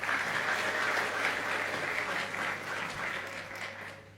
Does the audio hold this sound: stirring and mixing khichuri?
no